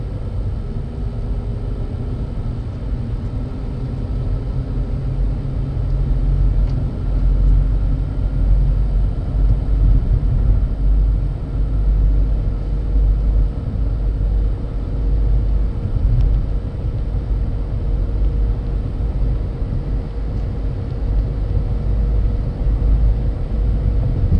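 Steady low engine drone from inside a 2013 Chrysler 200 driving uphill with the radio off, a constant even rumble with no talking.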